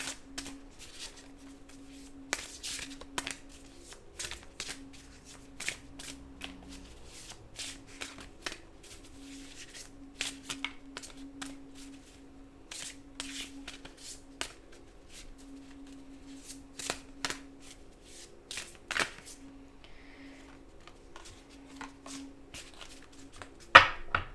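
Oracle cards shuffled during a card reading, a long run of soft riffling and flicking bursts with scattered louder snaps, close and fairly quiet over a steady low hum, without talking.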